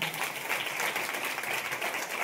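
Audience at a church worship gathering clapping hands together, a steady, dense wash of applause throughout, moderately distant with no voice clearly heard above it.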